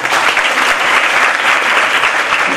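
Sustained applause from an audience at a live religious discourse in Gir Gadhada, dense steady clapping filling the whole stretch at fairly loud level.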